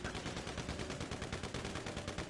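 Rapid automatic gunfire in GTA 5, a steady stream of sharp, evenly spaced shots rattling continuously at close range with no talking.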